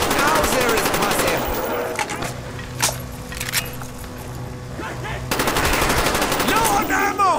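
Rapid automatic gunfire in Call of Duty: Black Ops zombies mode on the Kino der Toten map, loud bursts at the start and end with a quieter stretch of scattered shots and game sounds between.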